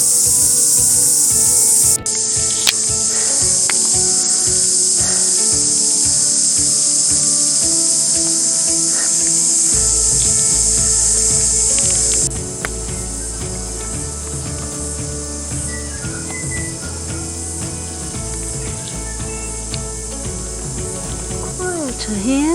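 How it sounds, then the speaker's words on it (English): Loud, dense insect drone of cicadas fills a New Zealand river gorge on a walking track, a continuous high shrill chorus, with brief rustling and a faint voice near the end. "Listening to the loud cicadas."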